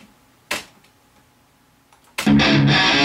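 A loud burst of distorted electric guitar through a Chop Tones dual rack amp strikes near the start and rings out, then a thick, sustained overdriven chord takes over toward the end.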